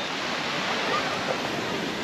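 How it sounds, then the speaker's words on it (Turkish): Sea waves wash in at the shore as a continuous broad surf roar, fairly close and steady, with faint voices in the background. "Dalga geliyor."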